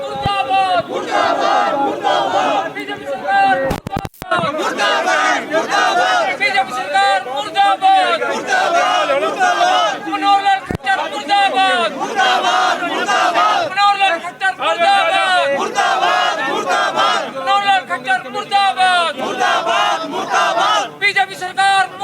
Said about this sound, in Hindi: महंगाई के खिलाफ नारेबाजी करता नजर आ रहा है